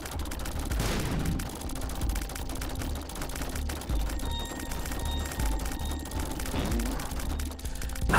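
Rapid flechette shots in The Binding of Isaac: Repentance, a fast clattering stream of small ticks and pops running throughout over game music, loud and nearly continuous, with no speech.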